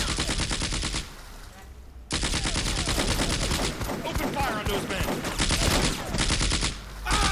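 Gunfire in the World War II strategy game Combat Mission: Afrika Korps, around a farm: dense, rapid machine-gun bursts and rifle fire, loud and sustained with a brief lull, and faint voices under the shooting.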